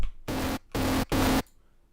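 Three long, loud hits of a hard techno kick with tube distortion, each a sustained, buzzy thump with a steady low hum, evenly spaced and then fading to quiet.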